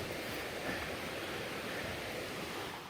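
A river at a creekside campsite in South Mountains State Park, North Carolina, rushes in a steady, dense broadband roar, close and continuous with no talking.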